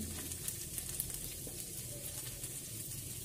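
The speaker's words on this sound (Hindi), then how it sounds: "अब इसमें हम मसाला डाल देंगे" Maggi noodles fry in a pan as masala spice goes in, a continuous close crackling sizzle with faint stirring, no voices.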